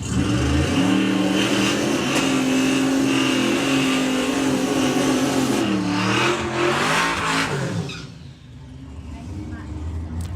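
A Volkswagen Passat race car accelerates hard down the Santa Pod drag strip, its loud engine droning and rising in pitch for several seconds before fading away as it recedes.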